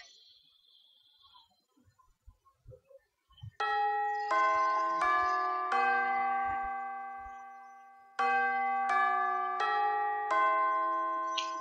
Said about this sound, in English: That's the school bell.